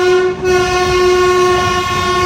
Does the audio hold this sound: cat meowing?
no